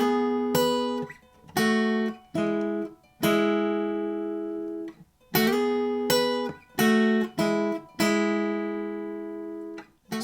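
Acoustic guitar plays the intro of a song slowly, with separate ringing chord strums and short gaps between groups of notes, close and clear with no voices.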